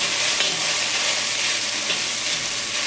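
Sliced okra with coconut fries in an open pan for a quick thoran stir-fry, a loud, continuous sizzle close by with light scraping of stirring and no talk.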